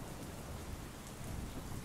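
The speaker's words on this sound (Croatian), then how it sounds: "Začuo se grom i prah. Počela je jaka kiša." Steady heavy rain with a low thunder rumble plays as a sound effect during a primary school drama performance, a dense continuous hiss at moderate level with no voices.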